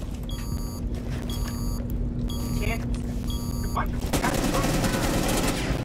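Rapid automatic gunfire and overlapping shots from a Rainbow Six Siege match, loud and sustained, with bursts repeating and a heavier barrage near the end, mixed with electronic alert tones and people talking over it.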